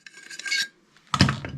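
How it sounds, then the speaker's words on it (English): A 7mm drill bit boring into a door while fitting a mortice sashlock, two close, loud rasping bursts of bit grinding through wood, separated by a short pause. "using, this is a 7mm drill bit, drilling here"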